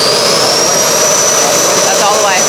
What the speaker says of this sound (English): Just go ahead and throttle up.